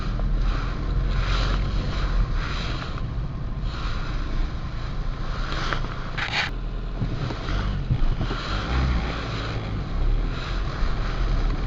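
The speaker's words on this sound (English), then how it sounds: "Car engine seems to tick over very nicely" A 2006 Lexus IS 220d with a 2.2 diesel engine idles with a steady, even low rumble, overlaid by a constant wind-like hiss from start to finish.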